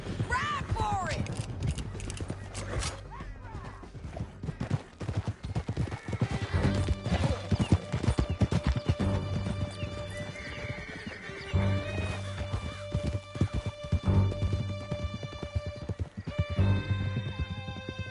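Horses galloping in Red Dead Redemption 2, dense rapid hoofbeats with neighs and whinnies over music, with shouting voices and occasional crashes.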